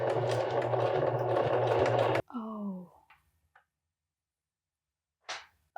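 A sewing machine runs steadily and loudly, stitching fabric for a winter hood, then stops abruptly; afterward come a few faint clicks and handling noises in near silence.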